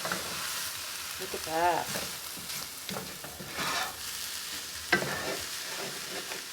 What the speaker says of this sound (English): We're going to move the rice back and incorporate the eggs with it.